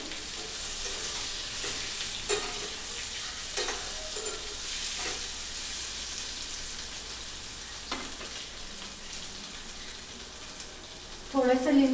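Peanuts and green chillies sautéing in a pan over a low gas flame: a continuous close sizzle with occasional scraping stirs and a clatter of utensil movement near the end.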